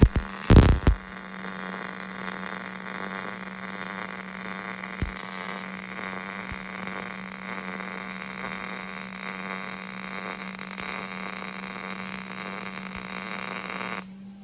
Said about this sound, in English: this front side weld, it goes a little quicker than that first initial inside weld because the metal is really hot now